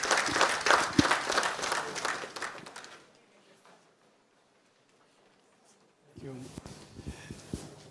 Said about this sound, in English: Please give him a round of applause, ladies and gentlemen